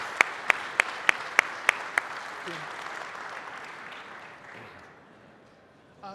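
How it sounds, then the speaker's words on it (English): A burst of clapping from a small crowd at a flight simulation expo reveal event, a few sharp claps standing out at first, then fading into a low murmur of voices. "Would you join me in giving these guys a round of applause and a hand?"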